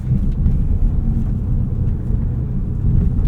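A 2025 Audi S3 with a dual-clutch gearbox on the move: a steady, close, low rumble of engine and road noise continues without a break, with no talking.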